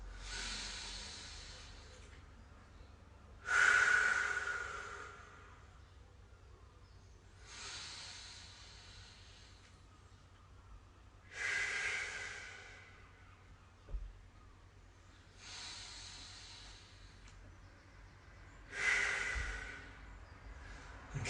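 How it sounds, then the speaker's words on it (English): Slow, deep breaths during a cool-down stretch after a home workout, about five long exhales spaced a few seconds apart, each a soft airy hiss, close and fairly quiet, with no talking. "3 more deep breaths."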